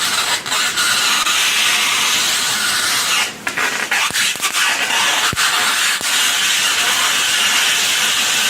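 High-voltage arc sparking on a sanded metal can makes a continuous loud hissing buzz broken by sharp crackling snaps, close and with no talking.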